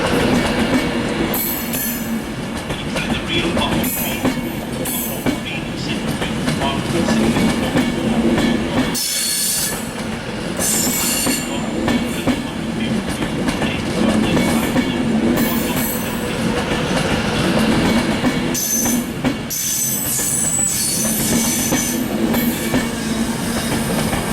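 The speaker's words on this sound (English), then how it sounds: "Here comes a terminating Avanti West Coast service. 390-154." A terminating Avanti West Coast train, unit 390-154, pulls into a Manchester station with loud, continuous wheel and rail noise, clickety-clack and occasional high squeals as it arrives.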